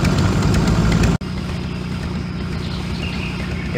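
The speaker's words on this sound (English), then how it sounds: "all I have to do is turn the engine back on and get it on our way" A boat engine runs steadily in the adventure video game Amerzone, giving a continuous mid-pitched idling drone. There is one instant cut in the middle, and no voices are heard.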